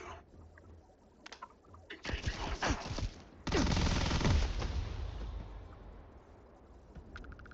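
Rapid bursts of gunfire from a poison-modified acid weapon in the video game Gorefield, with a sparse shot or two, then a loud sustained barrage that fades out, with faint clicks at the end.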